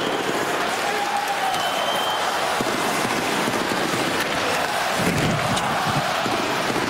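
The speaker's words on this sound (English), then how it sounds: "Crowd roaring, pleading for the tying goal." A hockey arena crowd during an NHL game between Phoenix and Minnesota roars continuously, a loud sustained wash of cheering and shouting with scattered clapping, swelling slightly toward the end.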